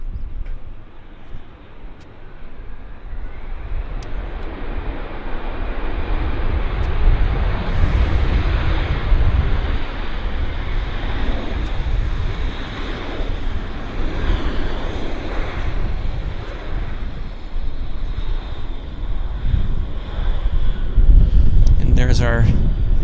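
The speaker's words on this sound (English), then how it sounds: "And we've got another lander right here." A jet airliner landing at Vancouver Airport, a steady loud engine roar with broadband rumble that swells and sustains throughout, heard from an outdoor vantage with some wind noise and a voice talking over it.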